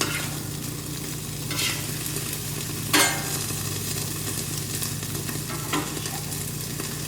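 Cudighi sausages sizzle steadily on a Camp Chef flat top griddle, a constant close frying hiss broken by a few sharper scraping stirs or flips, with no voices.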